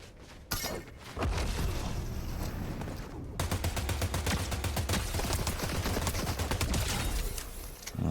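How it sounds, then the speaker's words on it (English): Bursts of automatic gunfire ring out in a Fortnite match, a rapid rattling volley that starts after a brief lull and keeps up steadily through most of the stretch, fairly loud rather than far off. "let's push up and see if we can get a better look at where this gunfire is coming from."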